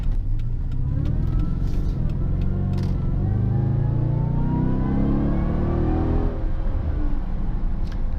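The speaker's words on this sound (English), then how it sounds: "You can hear that Supercharger whine and the custom exhaust system. This car makes that V8 rumble you want." A supercharged Dodge Challenger SRT-8 V8 with custom exhaust on a test drive accelerates with a deep rumble while a rising supercharger whine climbs and then falls away, loud and close throughout.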